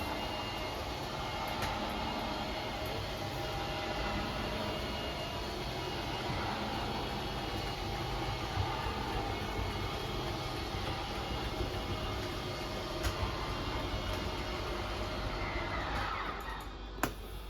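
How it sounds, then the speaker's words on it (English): A steady mechanical whine and low motor hum from the slide-out motors of a 2022 Wildwood 24RLXL travel trailer drone on without pause, fairly loud and close, then ease off near the end. "you're going to hear a couple of whines from the motors and then they'll turn themselves off"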